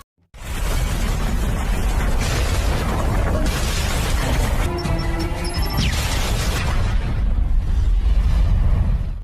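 A bomb explodes in a massive, sustained roaring blast with deep rumbling and crackling debris, loud and continuous for several seconds.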